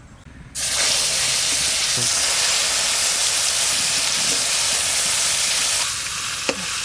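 Marinated koi fish coated in mustard oil drops into a hot wok and bursts into a loud, steady sizzle that holds for several seconds, then eases slightly near the end with a faint clink.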